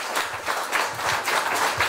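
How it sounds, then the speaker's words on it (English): Brief burst of outdoor applause for the President of Guyana during a visit to Bonasika Creek, a crowd clapping steadily with low rumbling background noise. "I want you to give a rousing rounds of applause to the President."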